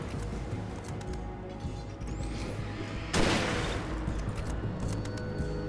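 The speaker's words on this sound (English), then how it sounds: "Shot a little too soon there." Gunfire in Alan Wake Remastered: several sharp shots crack in quick succession, then a louder, heavier blast hits midway and rings out into a sustained, noisy tail, with no talking.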